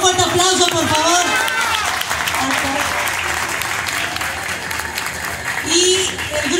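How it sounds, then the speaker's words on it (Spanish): Audience applause at an evening awards ceremony for a branch-decorating contest in Xalapa, a dense, loud wash of clapping throughout with a voice speaking over it and a few cheers and whoops. "Un fuerte aplauso, por favor."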